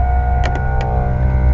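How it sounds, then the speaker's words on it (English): An onboard air compressor installed on a tow truck runs with a steady electric hum and whine, a few short hissing bursts cutting in over the drone. "That's my onboard air I installed."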